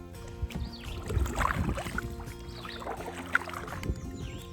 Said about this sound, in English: Okay, one hand paddle.